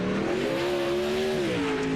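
Race cars circling Huset's Speedway in a sim racing game, one engine droning and revving steadily with a sliding pitch over a rushing background, loud and close, no talk.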